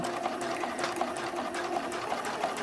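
A sewing machine runs a straight 1/4 inch seam with orange thread on a bralette cradle, its motor humming steadily with a rapid, even needle rhythm up close and no talking.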